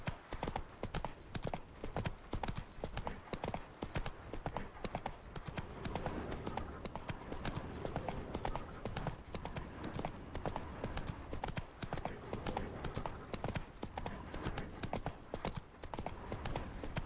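Steady, rhythmic clip-clop of horse hooves trotting continuously in The Witcher 3: Wild Hunt, crisp and fairly close, over a faint background hum.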